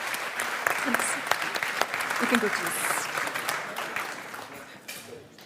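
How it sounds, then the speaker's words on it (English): An award show audience in Brussels applauds, a moderately loud spread of clapping that fades toward the end, with a voice speaking over it. "Give them a big round of applause."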